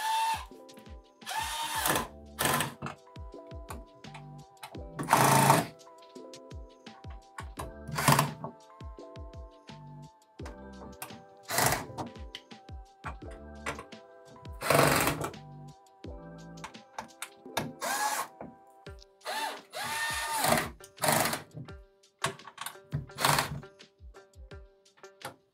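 A small screwdriver tightens screws during a PC build with a Ryzen 9 9900X and RX 7900XTX, producing repeated short bursts of scraping and clicking with pauses between them, close and fairly quiet, with no talking.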